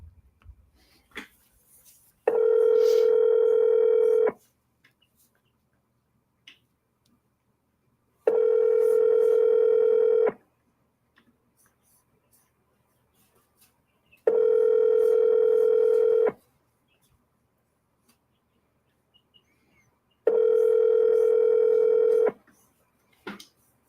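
Telephone ringback tone heard while placing an outgoing call: four long, steady buzzing rings, each about two seconds, spaced evenly about four seconds apart with near silence between them, loud and clear with no talking.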